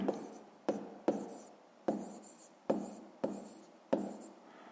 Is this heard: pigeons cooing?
no